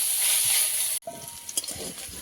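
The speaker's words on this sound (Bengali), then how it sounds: "দিয়ে দিচ্ছি পাতাগুলো তেলটা গরম হয়ে গেছে" Leaves dropped into hot oil in a kitchen pan, a loud hissing sizzle that cuts off abruptly, then gives way to quieter crackling and a few scraping stirs.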